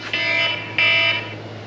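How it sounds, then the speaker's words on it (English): A phone alarm goes off as a reminder to switch on a water pump, two loud electronic beeping bursts in quick succession, close by, with no talk over it. "that's my alarm to turn on the water pump"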